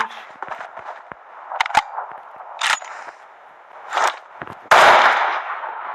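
AMR anti-materiel rifle fired repeatedly in a video game, several sharp loud shots spaced unevenly, each with a bright crack and short decay, the last blast heaviest and followed by a long rumbling tail.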